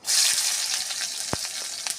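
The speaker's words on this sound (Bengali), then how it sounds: "ভাজা ভাজা হয়ে গেছে পেঁয়াজটা দিয়ে দিচ্ছি" Onion drops into hot oil in a wok already holding nigella seeds and dried red chilli, and a loud burst of sizzle erupts at once. The sizzle hisses steadily, broken by a couple of sharp stirring knocks.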